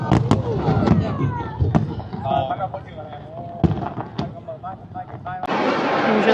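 Fireworks over Hoi An, Vietnam go off in sharp pops and booming bursts, some near and loud, some farther off, mixed with crackling and steady crowd noise and voices talking throughout.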